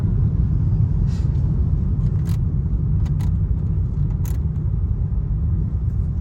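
A car drives steadily along Antero Soriano Highway, its road rumble and tyre noise constant and close throughout, with a few faint ticks and clicks over the drone.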